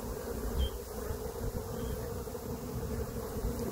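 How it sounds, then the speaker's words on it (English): Honey bees buzz around an open national hive in a garden, a dense, continuous hum close to the microphone with light wind noise underneath. "Healthy brood, healthy looking bees."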